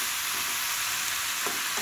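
A pan of vegetable curry with egg and mung dal frying, giving a steady close hiss of sizzling oil throughout with a couple of faint stirring scrapes near the end.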